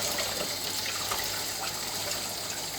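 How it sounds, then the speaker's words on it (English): Hands washed under a running tap, a continuous close rush of water with no talk over it. "We're going to rub your hands together like this. And you've got to wash your hands."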